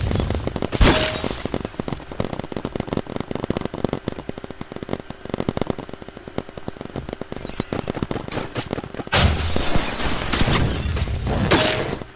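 Rapid bursts of gunfire from a high-priced gun in a Roblox paintball match, dense crackling shots firing steadily with heavier, louder volleys near the start and end.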